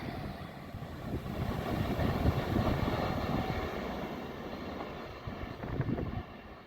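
A train powers hard through Crossgates station, a broad rumbling roar that swells over a few seconds and stays loud throughout, with some wind buffeting on the microphone.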